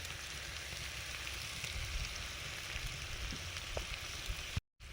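Boiled bananas frying in hot oil give off a steady, dense sizzle that holds evenly throughout, with a brief dropout near the end.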